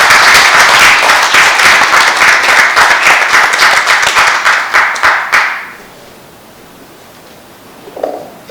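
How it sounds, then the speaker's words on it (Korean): An audience gives loud, dense applause to welcome a speaker, clapping for about five seconds before fading out abruptly into near silence, with a brief faint sound near the end. "큰 박수로 민계식 회장님을 맞이해 주십시오."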